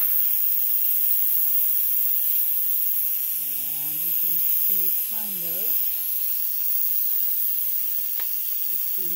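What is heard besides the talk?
electric countertop pressure cooker releasing steam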